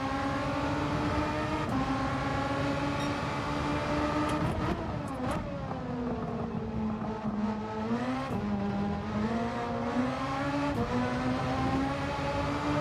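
A race car engine in Gran Turismo 7 drones and revs continuously, its pitch rising and falling through gear changes. Two overlapping engine tones can be heard at slightly different rev pitches, steady and close throughout, with no talking.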